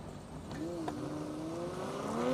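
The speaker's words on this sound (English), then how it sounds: "Porsche with a quick, easy launch, too." A Porsche launching off the line at an airport drag race, engine note rising steadily in pitch as it accelerates, heard at moderate distance with faint crowd and announcer sound beneath.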